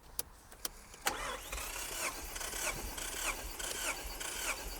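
A Nissan 200SX engine cranks on the starter during a compression test, a few sharp clicks followed by a steady, rhythmic whirring churn that keeps going at moderate loudness without speech.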